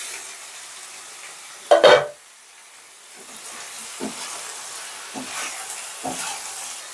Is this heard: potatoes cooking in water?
yes